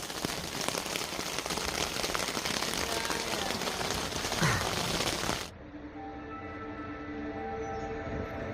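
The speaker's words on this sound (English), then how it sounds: "It's still raining." Heavy rain drums on a tent during a thunderstorm at a wild camp: a dense, steady hiss that suddenly drops away to a much quieter patter partway through.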